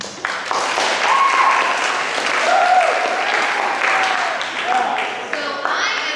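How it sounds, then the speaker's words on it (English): Audience applause after a speaker is introduced at a Central Georgia Technical College event, a steady crowd clapping that holds for about six seconds, with faint voices mixed in. "Thank you for the applause."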